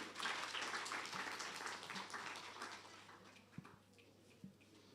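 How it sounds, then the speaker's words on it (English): Quiet audience applause at a student media exhibition, a dense patter of clapping that fades over a few seconds, leaving scattered claps and soft thumps in a room. "Round of applause one more time."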